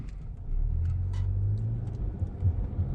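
A car engine rumbles low and steady in the middle of town on an icy late afternoon, with a nearby vehicle idling and passing under faint clicks, no talking.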